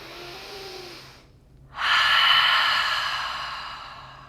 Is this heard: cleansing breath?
yes